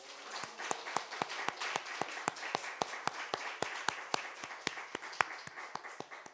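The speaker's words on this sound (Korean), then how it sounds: "우리 민석이 축하와 축복의 박수를 쳐주겠습니다" A church congregation at a Sunday service claps together in a steady, rhythmic round of applause, each clap crisp and evenly spaced, sustained for several seconds.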